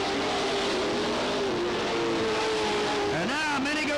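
Race cars roar steadily around the Cottage Grove Speedway oval at a 1991 fall classic, engines droning loud and close with pitch swells as cars slide and accelerate, while an announcer talks over them.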